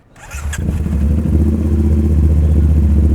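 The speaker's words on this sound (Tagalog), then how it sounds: "pakinggan natin yung tunog ng 270 degree crank na inline 2" A Motowel 450NK inline-two motorcycle engine with a 270-degree crank fires up and revs hard close by, a loud, throbbing rumble that climbs and holds steady.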